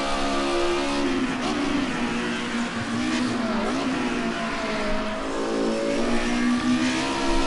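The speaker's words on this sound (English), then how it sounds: "Bouncing off the rev in there." A Group A touring car at Imola holds its engine against the rev limiter. The loud, steady high-pitched drone stutters and wavers as it bounces off the cut, continuous and close, with no talk.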